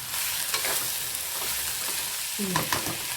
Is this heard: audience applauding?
no